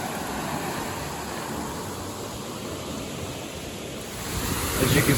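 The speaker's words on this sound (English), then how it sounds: "the lock is overflowing right now, so all the water is coming out of the top." Water pouring over the top of an overflowing lock gate on the Rideau Canal, a steady broadband rushing roar that swells louder near the end, with no talking.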